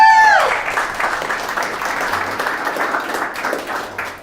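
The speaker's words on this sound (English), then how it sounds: "Maybe we can give him a round of applause again." A room audience applauds guest Anthony at a business talk, a steady burst of many hands clapping at moderate distance, easing off toward the end.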